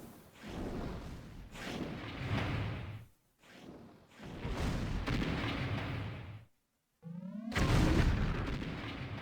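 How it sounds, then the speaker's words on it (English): Artillery shells land in a Red Alert real-time strategy match, a run of heavy booming blasts in three loud bursts separated by short gaps, the last burst opening with a rising whine before the impact. "We've got artillery shelling."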